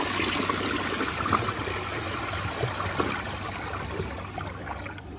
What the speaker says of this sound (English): All right, let's see what else we can flush.